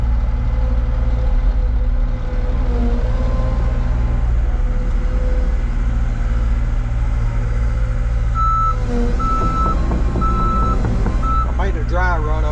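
A truck idles with a deep, steady engine drone, and then its reverse alarm beeps in a regular series as it backs up, loud and close.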